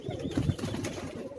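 A pigeon held in the hand on a rooftop loft in Karachi flutters its wings, giving a short burst of soft, close flapping with a few low murmuring sounds and no talk.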